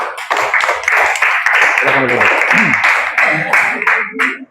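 A school class group breaks into applause, a bright, sustained patter of clapping at close range, with voices talking and calling out over it throughout.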